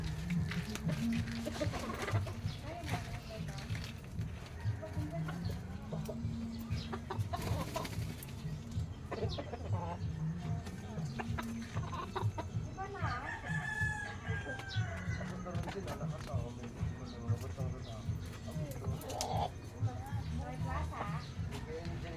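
A gamecock rooster crows nearby while hens cluck and chatter around it, with people talking faintly in the background.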